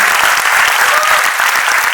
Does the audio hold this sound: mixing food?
no